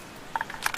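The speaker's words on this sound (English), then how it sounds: "I'm reloading." Reloading a homemade carbine rifle gives a quick pair of soft mechanical clicks followed by two sharper, louder clacks, all within under a second.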